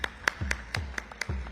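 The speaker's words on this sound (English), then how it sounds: "can we have once again a huge round of applause for Sir," Scattered applause from a business conclave and awards audience, a brief run of sharp, fairly distinct claps at moderate distance rather than a dense ovation.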